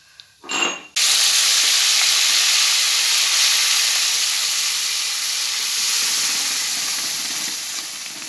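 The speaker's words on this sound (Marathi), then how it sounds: "जिरी टाकलेली आहे, मोहरी टाकून घेणार आहोत आणि यानंतर आपण जो गरगटलेला होता गरगटा तो टाकणार आहोत" Mashed spinach hits a hot cumin-mustard tempering after a short clatter. A loud, sudden sizzle and steam hiss bursts up, then holds strongly and fades slightly over several seconds, with no talking.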